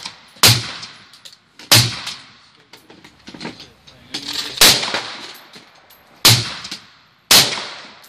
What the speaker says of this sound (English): It's 12 gauge. Shoot at the target up on the top.